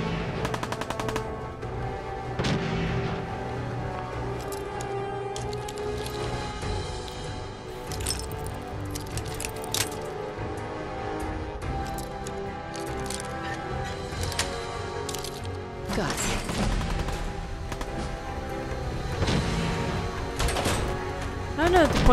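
Gunfire in the Fallout 4 video game crackles in rapid bursts and single sharp shots, some near and some farther off, with voices over it.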